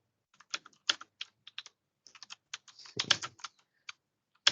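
Typing on a computer keyboard during a C programming session, irregular quiet clicky keystrokes in short bursts with a brief louder flurry near the middle, heard alone with no talk.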